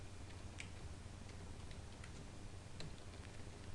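Commands typed on a computer keyboard make sparse, faint key clicks over a steady low hum, with no talking.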